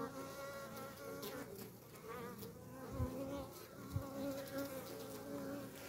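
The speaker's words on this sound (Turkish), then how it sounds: "Şu erkek arı bak." Drone honeybees buzz steadily at close range around a beekeeper's hives, a dense, continuous hum with a couple of soft thumps and no talking.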